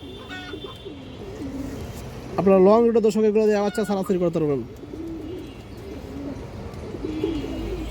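Black-necked pigeons coo in low, repeated throaty calls that run steadily beneath a man's close, loud talking.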